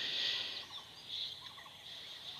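Tiger breed chickens on a farm, kept alongside Fayoumi birds, make repeated high warbling calls, several birds close by over a quiet background with no talk.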